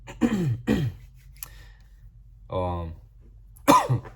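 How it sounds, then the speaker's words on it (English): A few harsh coughs and throat clearings come in short bursts close up, separated by pauses, with a brief vocal sound in between. "excuse me, guys, I'm sorry, I keep coughing."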